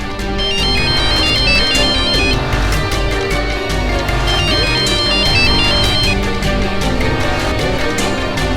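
A phone ringtone plays loud and close as a call goes unanswered, a repeating melodic tone pattern that runs continuously over several seconds with no voices over it.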